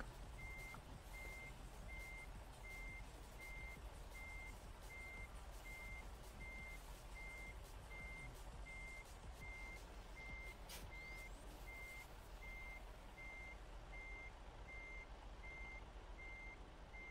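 A gravel delivery truck reverses, its backup alarm beeping at a steady, regular pace throughout over a low, continuous engine rumble, fairly distant and quiet.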